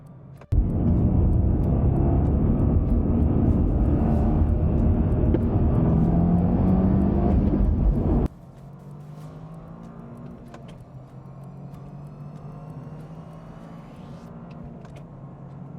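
A hot-hatch sports car accelerates hard from a standing launch, a loud, close engine roar that holds for about eight seconds before abruptly dropping to a quieter cruising drone.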